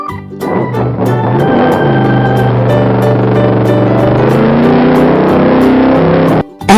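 A motorcycle engine drones loudly and steadily for several seconds, its pitch sliding down at first and then holding an even, distorted hum until it cuts off near the end.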